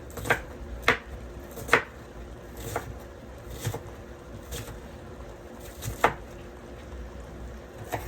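A knife chops food into big pieces on a board while preparing smothered baked burritos: sharp, irregular thunks, about eight in a row, close by over a low background hum.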